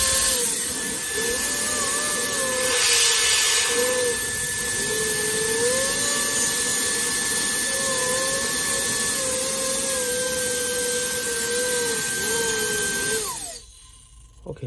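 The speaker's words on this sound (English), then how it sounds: "so it's very powerful hair dryer" A brushless (BLDC) hair dryer on high speed blows with a steady, loud whooshing roar and a thin high whine, then cuts off abruptly near the end.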